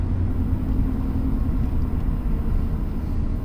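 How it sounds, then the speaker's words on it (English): A steady, low V10 exhaust drone from inside a 2000 Mercedes-Benz S500 cruising on a highway, constant and even with no talking. "You can hear the drone of the exhaust, but it's a nice drone."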